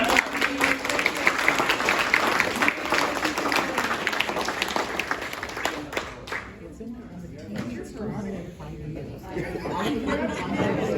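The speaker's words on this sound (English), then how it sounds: "a big applause to everybody who made this happen" An audience applauds at an event, the clapping dense and loud for about six seconds before thinning into scattered claps under crowd chatter and voices.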